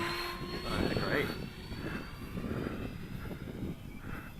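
A remote control jet airliner with a 64 mm engine flies at about half throttle, its thin whine drifting in and out at a moderate distance, with a voice briefly heard over it.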